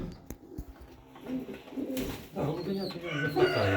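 Mykolaiv pigeons coo in soft, repeated rolling calls, close by, with scattered rustling and knocks around them and a few brief voices at times.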